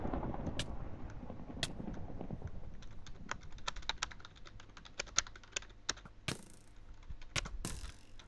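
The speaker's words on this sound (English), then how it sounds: "While I'm typing!" Rapid typing on a computer keyboard during a SuperCraftBrothers game session, a close stream of light key clicks broken by a few sharper, louder clacks, over a low rumbling background at the start.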